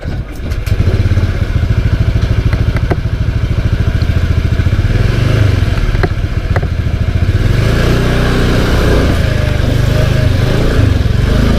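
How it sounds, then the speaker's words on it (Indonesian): A 2017 Honda Beat scooter motorcycle runs steadily on a test ride, its engine droning loud and continuous with a few clattering thumps over the road. "langsung saja kita test drive motor ini ya cuy ya"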